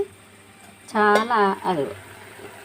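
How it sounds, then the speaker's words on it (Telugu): Ivy gourd curry sizzles in a pan as its added water cooks away, a steady low hiss running under a person talking. "అంటే కర్రీ బాగా దగ్గరికి పడింది అని అర్థం అనమాట ఆ సౌండ్ వస్తే"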